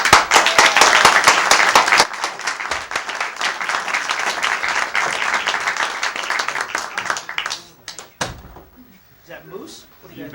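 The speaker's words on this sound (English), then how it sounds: "How about a gigantic round of applause for Steve Barnes?" Audience at a magic show in a small parlour theater gives a big round of applause for the magician, loud close clapping that thins out midway, then voices talk near the end.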